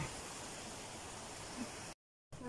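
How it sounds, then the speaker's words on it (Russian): Heavy rain pours down outside as a dense, steady hiss, faint and distant, then cuts out briefly near the end. "И вот такой вот у нас ливень идет."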